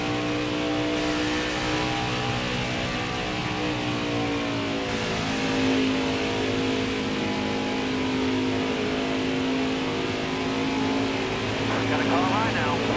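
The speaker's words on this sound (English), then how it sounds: "And 60 laps to go here in the Chevy Silverado 200 for the Craftsman Truck Series playoffs." Craftsman Truck Series race trucks roar around the track during the Chevy Silverado 200 playoff race, a loud, continuous engine drone that rises and shifts in pitch as the pack passes, with a commentator talking over it.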